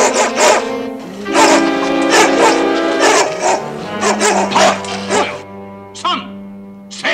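Dogs bark loudly and close by in short repeated bursts, mixed with yips, while people talk over them.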